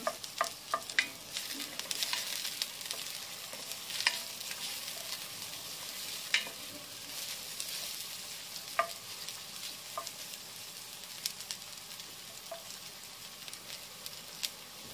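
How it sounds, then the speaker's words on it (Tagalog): Onions frying in a pan until golden brown: a steady low sizzle under repeated sharp clicks and scrapes from stirring, close by and moderately quiet, with no one speaking. "So, haluin natin ng haluin. Ayan. Make it golden brown."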